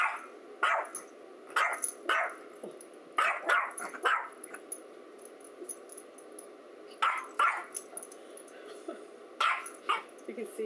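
A dog barks at its own reflection in a mirror, in sharp, fairly close bursts of several barks separated by short pauses, while a person speaks quietly in between.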